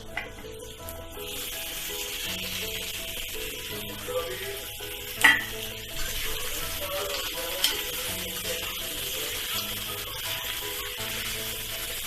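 Boiled potatoes added to a tempering of cumin and mustard seeds in a pan for batata bhaji, with continuous sizzling frying and occasional scraping and stirring strokes close by.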